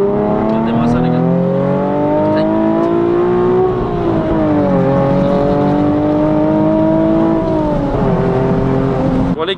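A Nissan 370Z Nismo with a full tube exhaust revs loudly and steadily, its engine note rising and falling in pitch over several long sustained pulls, with a person talking over the roar.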